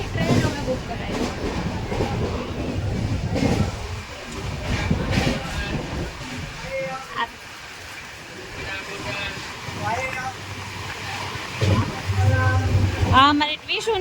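Rhythmic clickety-clack and steady rumble of a running passenger train heard from inside a nearly empty carriage, with people talking intermittently over the noise.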